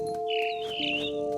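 A mama bird in the video game What Remains of Edith Finch, high in a big tree, chirping in quick rising and falling tweets over a steady low electronic hum.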